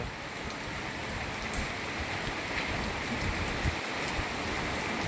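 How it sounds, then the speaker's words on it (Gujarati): Heavy rain falls in Moti Gop, Gujarat, in a continuous, dense hiss, steady throughout without pause. "એક ધારો વરસાદ ચાલુ છે"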